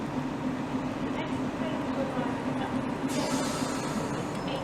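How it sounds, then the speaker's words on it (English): An intercity train on the Norwich to London Liverpool Street service rolls through Romford station on the Great Eastern Main Line, a steady rumbling roar with hiss, near and continuous, with talk heard over it. "ready to pass through now is going to be 1 Papa 53, the 1801 Grey Triangular service from Norwich to London Liverpool Street"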